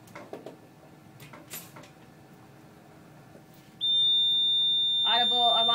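A Dräger EvitaXL ventilator sounds its audible alarm during a check: a loud, steady electronic tone with harmonics begins partway through, and a pulsing buzz joins near the end, following quieter handling noises and faint voices.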